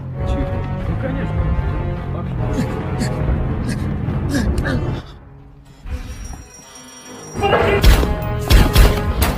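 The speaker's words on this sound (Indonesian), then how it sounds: "Adegan kejar-kejaran, tembak-tembakan, dan baku hantam pun terjadi pada scene ini" Loud action-scene clamor with thuds, bangs and scuffling over dramatic music, with voices breaking in; the din drops briefly before surging back.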